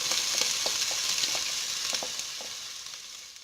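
Onion frying in regular cooking olive oil for barley and wild thyme soup, a steady bright sizzle with soft crackles and occasional stirring taps, fairly close and continuous, no voices.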